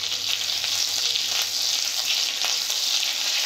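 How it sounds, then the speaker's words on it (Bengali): Chopped ginger and garlic sizzle in hot oil in a pan, giving a steady, bright hiss with small crackles throughout, close and continuous with no talking. "আদা রসুনটাকে এইভাবে ভেজে নেব।"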